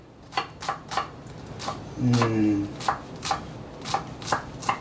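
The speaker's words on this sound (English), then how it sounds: "So we're just gonna chop that up." Knife chopping shallots on a cutting board in a home kitchen, sharp close taps in an uneven rhythm with a brief scraping rustle midway, loud and clear.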